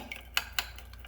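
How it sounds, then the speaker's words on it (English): Two quick metallic scrapes of a utensil against a bowl, briefly stirring a cornstarch and oil face mask mixture, amid quiet background noise. "we're gonna mix all this in here as much as we can"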